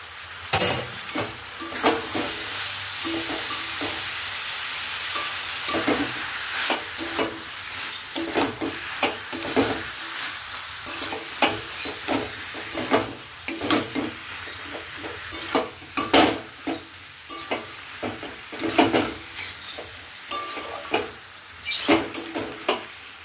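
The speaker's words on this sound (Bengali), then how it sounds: "হলুদ, মিষ্টি পরিমাণ মতো দিয়ে কষিয়ে নিচ্ছি ভালো করে।" Cabbage cooks in oil with turmeric and sugar in a pan, stirred again and again. Repeated scraping strokes of the spoon rise over a steady, moderate sizzle in an uneven rhythm, with no voices.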